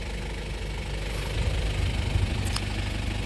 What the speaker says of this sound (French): Je vous présente un Toyota Hilux Surf 1995 avec un moteur 3 litres turbo diesel, le 1KZ TE.